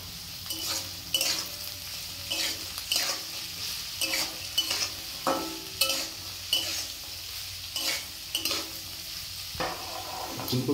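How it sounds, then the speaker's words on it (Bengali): Cauliflower is stirred in a frying pan with salt, sizzling steadily as a utensil scrapes and clinks against the pan in repeated, uneven strokes, close and clear with no talking. "এখন ফুলকপিগুলো একটু এর সাথে নেড়ে দিচ্ছি।"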